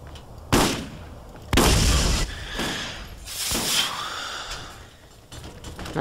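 Gunshots aimed at the player in the game Borderlands, a few loud, separate bursts amid a noisy firefight.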